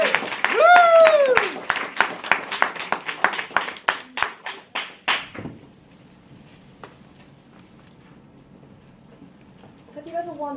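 An audience welcomes a speaker with a run of distinct, rhythmic claps after a high cheering voice, fading out around halfway into quieter room noise and a voice at the end.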